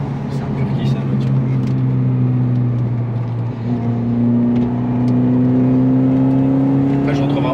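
A Peugeot 308 GTI accelerates on the road, its engine drone heard from inside the cabin and climbing steadily in pitch, with a voice talking over it.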